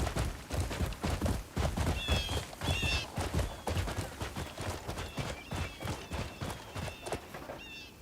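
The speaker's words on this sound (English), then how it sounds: "That horse seems fond of you, Greymane." Horse hooves clip-clop in steady repeated beats in the open-world game Crimson Desert, with a few whinnying neighs breaking through at intervals, fairly close and loud throughout.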